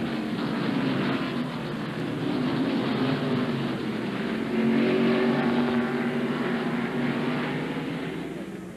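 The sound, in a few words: NASCAR stock cars racing at Sears Point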